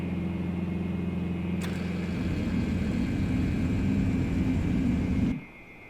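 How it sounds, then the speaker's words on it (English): In a flight simulator, landing gear lowers on an A2A Bonanza V-tail: a mechanical whir and rumble rises over the steady engine drone, building for a few seconds before cutting off abruptly, leaving quiet cabin hum. "There it is, gear coming down."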